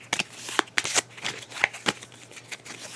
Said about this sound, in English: I should shuffle this a little better